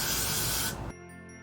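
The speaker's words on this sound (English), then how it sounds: "take your hairspray, and I'm using some Got To Be Glued" A single short burst of Got To Be Glued hairspray onto glitter, a loud close hiss lasting under a second and then cutting off abruptly.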